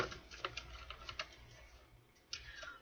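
Tarot cards are shuffled close by, giving a soft, quick flutter of papery ticks and taps, with a short riffle near the end.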